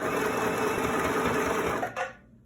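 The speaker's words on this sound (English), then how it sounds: "I'm going forward and really stitching in the ditch" A sewing machine stitches in the ditch on a pant waistband with black thread, a loud close steady motor whir with a rapid needle rhythm that stops abruptly near the end.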